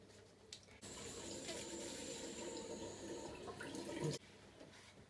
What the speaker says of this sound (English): I'm gonna be washing this face mask off my face